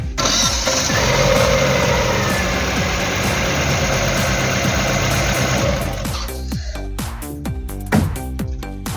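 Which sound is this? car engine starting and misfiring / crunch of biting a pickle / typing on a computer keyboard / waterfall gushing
car engine starting and misfiring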